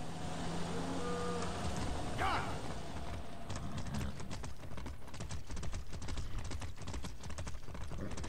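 A cow in the street in Far Cry 6 makes a low lowing sound amid hooflike clip-clop, followed by a busy stretch of rapid clicking and tapping of game effects.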